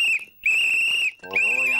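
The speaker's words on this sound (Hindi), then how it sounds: "अरे भाई सीटी धीरे से बजाना, मेरे कान पक रहे।" A whistle is blown in long, shrill, steady blasts, loud and close, three times with short gaps between them, in a neighbourhood where a women's group is cleaning at midday.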